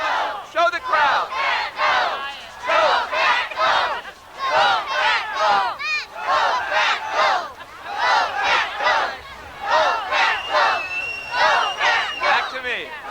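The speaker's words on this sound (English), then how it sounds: "And you can hear the crowd." Green Bay Packers fans outdoors in the snow chant and roar in loud rhythmic bursts, a big crowd shouting in repeated waves close by.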